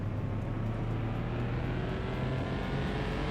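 A Toyota Supra engine drones steadily on a dyno stand in the Car Mechanic Simulator 2021 video game, a loud, constant engine note with a slowly shifting pitch and no pauses.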